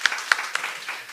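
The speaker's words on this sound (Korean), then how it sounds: "오랜만이니까 박수 한번 하겠습니다" A church congregation claps to welcome a missionary during a Sunday service, a short burst of hand claps with a few sharp peaks that fade within about a second.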